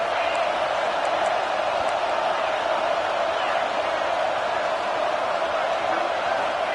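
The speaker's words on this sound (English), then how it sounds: "This crowd bringing the energy and noise early." Steady, dense stadium crowd roar fills a college football video game, a continuous wash of cheering and noise without pause, with occasional faint whoops poking out of the din.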